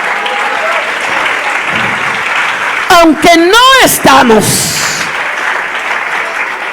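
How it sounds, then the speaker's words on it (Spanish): Church congregation applauding during a Spanish-language sermon, steady clapping throughout with a preacher's voice speaking loudly over it. "Denle ese aplauso al Señor"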